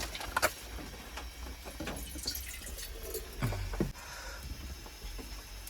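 Water is poured into milk for tea inside a van during heavy rain, a faint trickle and dripping splashes under steady rain noise, with a short clink near the end.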